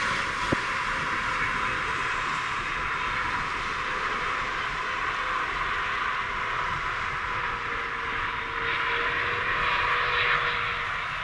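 An Air Canada jet landing at Toronto Pearson Airport: a loud, steady engine roar and rushing whine holding level throughout, heard alone at fairly close range.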